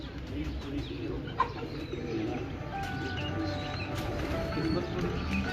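Soft cooing from breeder pigeons repeats in a steady low murmur amid a busy background of scattered bird calls, with one brief sharp knock partway through.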